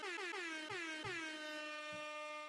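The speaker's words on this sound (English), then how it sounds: "Air horn for you." An air horn sound effect blares in one long, loud continuous blast, its pitch sliding downward over about two and a half seconds.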